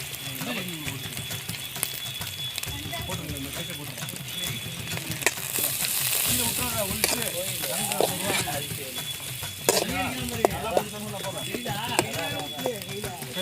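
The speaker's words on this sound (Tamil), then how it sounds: "நல்லா வெங்காயம் நல்லா பொன்னிறமாக பொரிச்சு தனியாக எடுத்து வச்சிடணும்" Onions fry in ghee until golden, a continuous soft sizzle with occasional stirring clicks, heard under ongoing conversation between several people.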